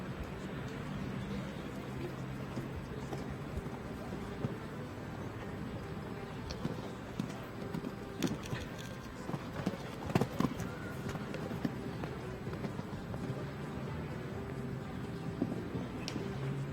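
Hoofbeats of a show jumping horse on course at a Longines FEI Jumping World Cup qualifier in Guadalajara, a steady rhythmic clip-clop under continuous arena crowd noise and a commentator's voice, with occasional sharper thuds.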